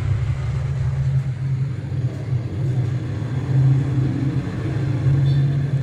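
A Panasonic Econavi bottom-freezer refrigerator, switched on with its evaporator fan mounted the wrong way round, gives a steady low motor hum and rumble that continues unbroken and fairly loud throughout.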